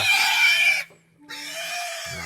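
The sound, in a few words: pig oinking on a farm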